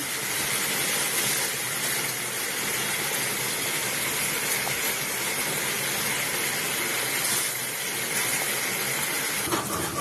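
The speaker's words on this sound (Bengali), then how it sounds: "এখানে মশলাটা কষানো চলছে।" Spice paste with tomato, ginger paste, turmeric, chili powder and salt fries in a pan for khichuri, a steady loud sizzle and hiss that continues evenly throughout, with no talk.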